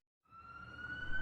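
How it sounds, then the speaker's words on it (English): An ambulance siren wails steadily, rising in from silence and growing louder as the vehicle nears, its high tone riding over low road rumble. "Soon, an ambulance arrived at the scene."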